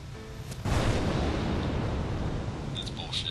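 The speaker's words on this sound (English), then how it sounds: "That was thunder." A deep, rolling rumble of thunder in the video game Final Fantasy X swells suddenly and lingers, filling the low end before fading slightly.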